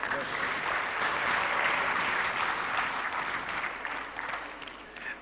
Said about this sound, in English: the women entrepreneurs here must give her an applause